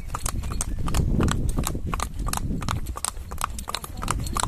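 Horse hooves clip-clop steadily in an ambling (rahvan) gait, left and right legs moving together, close and fairly loud with an even repeating rhythm and no talk.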